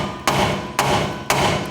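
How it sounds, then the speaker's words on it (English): Three sharp metallic hammer blows strike a rear wheel hub assembly on a 2004-2010 Toyota Sienna, evenly spaced about half a second apart, close and loud with ringing decay between hits. "you can take a hammer, try to give it a couple hits."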